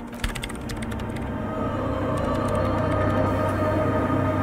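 Keys clatter on a computer keyboard in the game Disco Elysium, a quick, irregular run of clicks over a humming machine, close and clear, with no talking.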